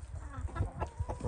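A young rooster clucking in a backyard flock: a quick run of short, low clucks close by, with no talking.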